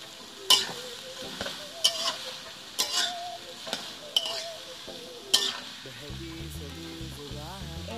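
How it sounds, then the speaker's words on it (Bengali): Peas and rice frying in a pan, stirred with sharp periodic scrapes and clacks over a continuous sizzle, before a low tonal hum enters near the end. "দিয়ে এটাকে ভালো করে নাড়াচাড়া করবো।"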